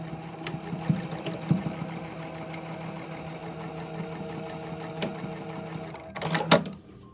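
Sewing machine stitching a fabric shoulder seam, running with a steady mechanical hum and rhythmic needle clatter, fairly quiet and close, with a few clicks and a brief louder burst of handling noise near the end.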